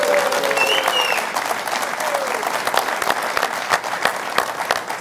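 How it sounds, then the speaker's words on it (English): Large crowd of AC Milan and AS Roma supporters at a live football show applauding and cheering, a dense continuous wash of clapping with scattered shouts, steady and loud throughout. "How about one more big cheer?"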